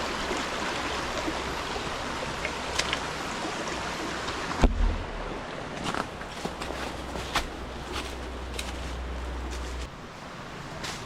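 Water from a mountain stream in New Zealand's Kaimai Ranges runs and splashes steadily, close and continuous, while a hiker fills a water bottle, with a brief knock and scuffing partway through.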